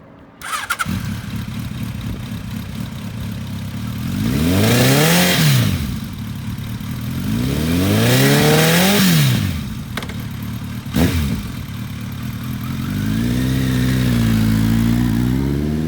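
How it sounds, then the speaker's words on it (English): A 2005 Kawasaki ZRX1200R retro superbike starts up and settles into idle, then its exhaust is revved hard three times, each throttle blip swelling loud and falling back, with a steady idle between. "Wait till you hear that exhaust."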